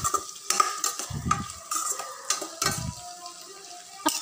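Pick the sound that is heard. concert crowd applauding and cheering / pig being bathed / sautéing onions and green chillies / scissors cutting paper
sautéing onions and green chillies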